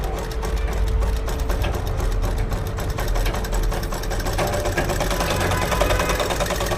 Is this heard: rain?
no